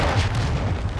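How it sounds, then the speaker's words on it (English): Mortar strike explosion in a video game, a dense rumbling boom with sustained low roar filling the whole moment, loud and close, no talk. "Hate mortar strikes."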